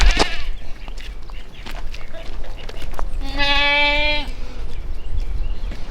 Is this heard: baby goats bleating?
yes